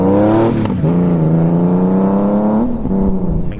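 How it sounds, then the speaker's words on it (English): A 1800cc Honda Goldwing motorcycle fitted with a Shark Road exhaust revs close by, giving a loud, steady, throaty drone that holds and then climbs slightly in pitch near the end, with no voices. "What you're listening to today is the Shark Road exhaust."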